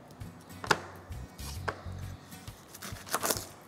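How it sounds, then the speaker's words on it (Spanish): An onion chopped into half-moon slices on a board, irregular knife thuds and sharp taps at close range, quiet and without talk. "vamos a picar la cebolla"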